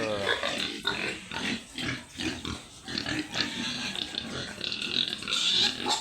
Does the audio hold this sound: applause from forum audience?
no